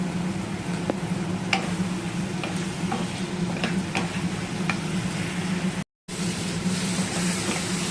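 Constant close-up sizzle of a tomato and green chili spice paste frying in oil with turmeric and salt, with occasional ticks of a spoon stirring and a brief silent cut near the end.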